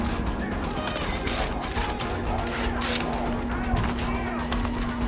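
Gunfire in Far Cry 5 co-op play, a sustained loud barrage of rapid shots layered over a steady tonal hum, with voices talking beneath it.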